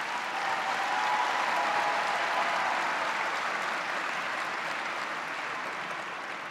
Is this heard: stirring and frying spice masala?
no